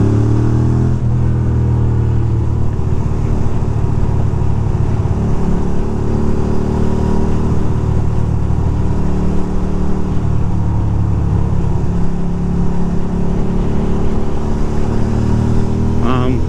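A Ducati motorcycle engine drones loud and close while being ridden through Manhattan to Brooklyn traffic, a steady unbroken rumble mixed with rushing wind noise.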